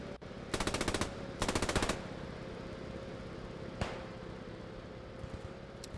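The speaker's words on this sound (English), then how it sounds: "We've got an MG42 opening fire here." MG42 machine gun in the Post Scriptum game firing two sustained loud bursts of rapid automatic fire, each about half a second long, followed later by a single sharp shot against steady background battlefield ambience.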